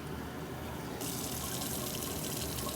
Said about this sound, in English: I have a cup full of water here, and I'm just going to take this and fill the reservoir